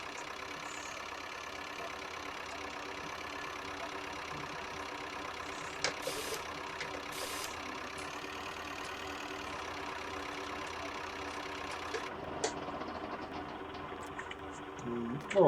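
A farm loader tractor idles steadily at moderate distance, a continuous low engine drone with a few faint clanks and knocks and a brief rise in noise near the end.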